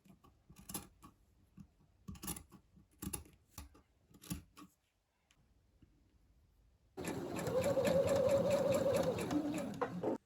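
A sewing machine stitching a doll's dress runs in one steady, close whir for about three seconds near the end. It follows a stretch of sharp snipping and clicking with a short silent gap between.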